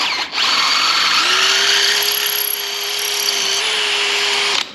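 A 9.9 mm metric bit drills into a spindle part of a Honda 450R ATV, the drill whining loud and steady close by, pitch dipping slightly under load before spinning down at the end; no talking.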